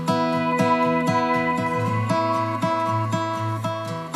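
Acoustic guitar strums a steady folk worship chord pattern while a sampled pedal steel glides and sustains on top for a country folk flavor, the two blended evenly and continuously with no voices.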